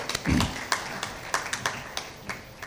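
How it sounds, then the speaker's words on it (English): Sparse, scattered hand claps from a small group at a foundation day ceremony, irregular and fairly faint, tapering off rather than building into full applause. "A big round of applause to them."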